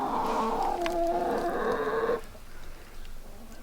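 Chickens at a homestead coop clucking and murmuring close by for about two seconds, then fading to quiet background, no talk.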